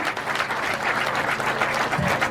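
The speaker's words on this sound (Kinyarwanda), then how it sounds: "reka nongere nsaba uwo mwagendanye n'abo wasanze baguha amashyi" Guests at a wedding give a continuous round of hand-clapping, many hands together at moderate distance, steady and even for the whole stretch with no speech over it.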